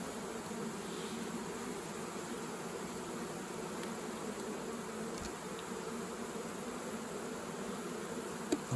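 Honey bees around frames moved from a swarm trap hum in a steady, even drone for the whole stretch, close and moderately loud, with no voices and only a couple of small clicks near the end.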